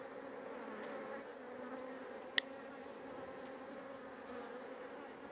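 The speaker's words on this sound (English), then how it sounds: "Got a bee up my sleeve." Honeybees buzz steadily around an opened hive while a weak hive is being combined, a dense continuous drone close by with one brief sharp click.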